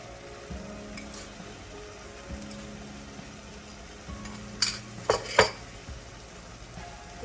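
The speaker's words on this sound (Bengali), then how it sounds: "মশলাটা আমি ভালো করে কষে নেব" Masala of onion, ginger and garlic frying in a pan, with a steady low sizzle and a few sharp spatula scrapes and clinks against the pot near the end.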